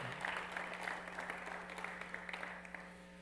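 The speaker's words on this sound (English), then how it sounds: "a final round of applause of encouragement to our eight finalists" Applause for the eight finalists at the eSailing World Championships, held at an annual conference in Sarasota, rises as a steady, moderately loud wash of clapping from an audience, continuing through with a low hum underneath.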